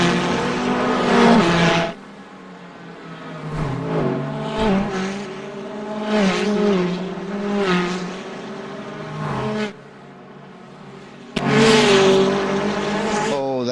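A Porsche race car in Gran Turismo 4 races with its engine wailing and shifting through rising and falling revs, loud and close, cutting out briefly near the end before the roar returns.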